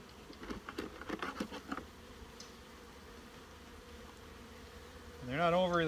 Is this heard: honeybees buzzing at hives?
yes